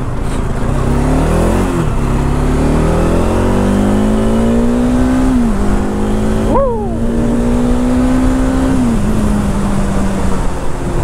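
A student's own vehicle engine revs steadily and loudly, its pitch climbing and dipping in long sustained swells with a brief sharp rise midway, with no talk over it.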